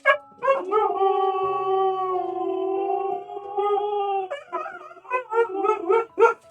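Dogs howl close by: one long, steady, wavering howl, joined by a second lower voice, breaks into a string of short yips and whimpers.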